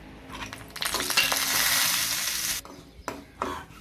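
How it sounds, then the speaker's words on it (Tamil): Sun-dried vadagam seasoning balls frying in hot oil for a coconut chutney, a loud crackling sizzle building and holding for about two seconds, then cutting off, followed by short bursts of clatter. "இப்போ இதே வானிலையிலேயே வடகத்தையும் நம்ம போட்டு பொரிச்சு எடுத்துக்கலாம்."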